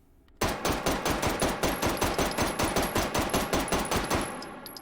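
Rapid semi-automatic gunfire from a rifle fired two-handed with the stock extended, about twenty loud, close shots in a steady fast rhythm with a ringing tone above.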